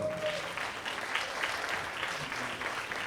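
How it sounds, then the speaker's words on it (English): Faint audience applause at a Jamaican excellence awards event, a soft steady patter of clapping heard at a distance for a few seconds. "This is where you're supposed to applaud."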